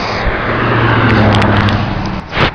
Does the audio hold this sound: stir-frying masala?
no